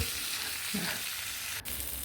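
Pork neck sizzling steadily in a hot electric pan, a constant crackling hiss close up, with a brief scrape of stirring partway through.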